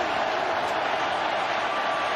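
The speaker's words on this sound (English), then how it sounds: "They're dealing with a little crowd noise too." Steady, dense roar of a stadium crowd at an NFL football game between the Jacksonville Jaguars and Cincinnati Bengals, a continuous broadband wash with no breaks, loud and close throughout.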